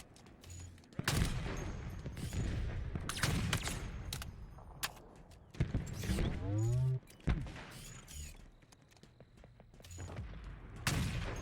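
Dense bursts of gunfire from the video game Halo Infinite, rapid overlapping shots and mechanical clicks in several loud clusters, with a brief creaking, sweeping effect in the middle.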